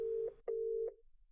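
A telephone busy signal in a video game, two steady electronic tones separated by a short gap, clean and loud, with no talk over it.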